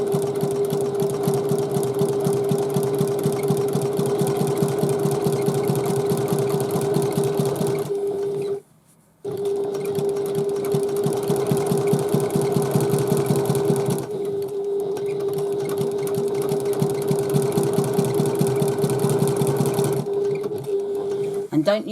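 Sewing machine stitching a second row along a handbag, a steady fast mechanical whir with a sharp tonal hum, running in long stretches broken by brief stops and restarts.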